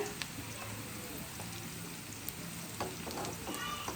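Onions frying in a pan for a prawn bhuna, a steady close sizzle with faint stirring clicks throughout.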